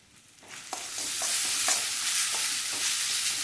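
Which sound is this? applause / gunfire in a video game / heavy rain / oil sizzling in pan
oil sizzling in pan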